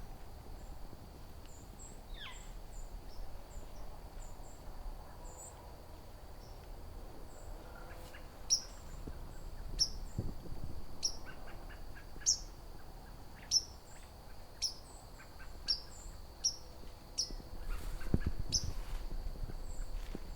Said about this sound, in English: It's a white-throated sparrow.